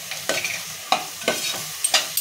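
A spoon scrapes and stirs homemade Agri masala and biryani masala through hot oil in a pan, with about six distinct scraping strokes over a soft, continuous sizzle.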